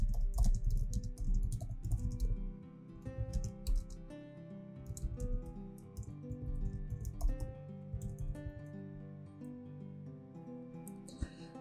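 Quick, light clicks of keys on a computer keyboard come in irregular runs and short pauses, close and soft, alone with no talking.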